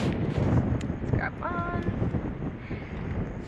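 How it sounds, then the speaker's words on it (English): Wind gusts across a microphone outdoors, a steady broadband rumble lasting throughout, with a brief bird-like chirp partway through and faint voices nearby. "Gosh, it's so windy."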